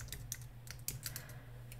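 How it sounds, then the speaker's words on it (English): Computer keyboard typing, a short burst of separate key clicks at an uneven rhythm, close and fairly quiet over a steady low hum. "I'm going to type in corporate."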